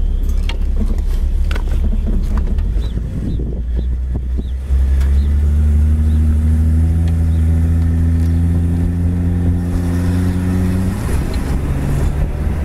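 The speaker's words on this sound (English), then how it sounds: "Kickdown works on the tranny like it should, the passing gear." A white 1966 Ford Mustang convertible accelerating as the transmission kicks down into passing gear, the engine heard from inside the car swelling into a strong, rising drone that climbs steadily, then shifts and continues with road and wind noise.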